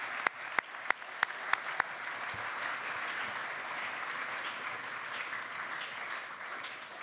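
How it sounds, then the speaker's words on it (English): An audience at a school presentation day breaks into applause, a few sharp early claps quickly swelling into sustained, even clapping that carries on steadily from a moderately distant crowd. "So I think that actually deserves a round of applause as well."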